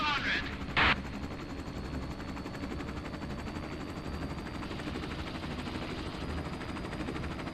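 Rapid gunfire in Arma: Cold War Assault, a sustained rattling burst running the whole clip amid a dense battlefield din with tank combat around it, a couple of sharper reports early on.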